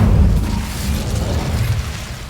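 An Incendio fire spell cast in the game Hogwarts Legacy, a dense, loud roaring rush of flame that holds steady and fades slightly over two seconds, with no voices.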